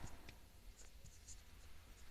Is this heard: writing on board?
yes